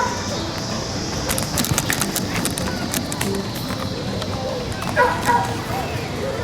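A dog barks and yips repeatedly at a distance outdoors during a dog training lesson, over steady background noise and murmuring voices.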